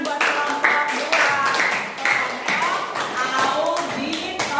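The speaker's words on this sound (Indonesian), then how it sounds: "Tepuk tangan buat kelompok 2." A classroom of students claps for a group presentation in a science lesson, a dense burst of hand claps and taps lasting several seconds with voices mixed in.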